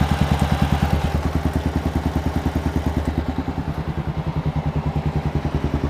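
A Kawasaki KLR650 motorcycle idles close by with a steady, fast thumping pulse throughout, its radiator fan whirring along underneath the engine beat.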